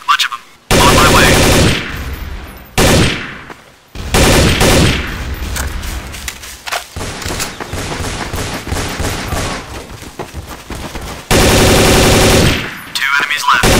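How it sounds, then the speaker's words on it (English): Bursts of automatic gunfire rattle through a Counter-Strike: Source firefight on the cs_militia map, with dense loud volleys at the start and again near the end and scattered shots between. "Taking fire! Need assistance!"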